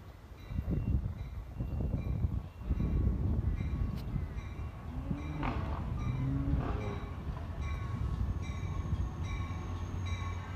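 A Caltrain commuter train rolls past nearby at Santa Clara University with a steady rumble, squealing wheels and clanking cars, its sound holding on as it passes.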